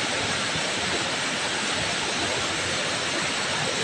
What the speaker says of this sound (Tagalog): Waray pa'y oran, kusog na ang baha.